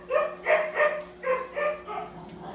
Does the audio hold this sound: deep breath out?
no